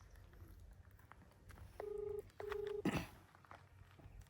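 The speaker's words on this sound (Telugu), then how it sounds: "ఫోన్ అయితే చేస్తున్నా" A phone being dialed for a call gives two steady touch-tone beeps in quick succession, moderately loud and close, then a brief rustle over quiet room noise, with no talk.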